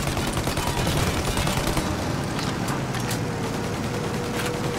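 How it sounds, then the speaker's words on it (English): Sustained, dense gunfire in the Mafia Definitive Edition video game as shots rake a plane's engines, a loud continuous crackle of rapid rounds with no pause across the whole stretch. "Shoot out the engines!"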